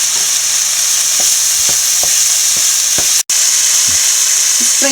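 Chicken fried rice is stir-fried in a hot pan with chopped ginger, garlic and green chilli, giving a loud, continuous close sizzle broken by repeated spatula scrapes and one brief dropout.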